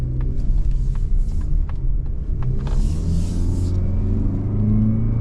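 A 2026 Mazda CX-30 Aire Edition engine hums smoothly as the car accelerates on the road, a steady loud rumble with rising tone and light wind and tire noise, no voices.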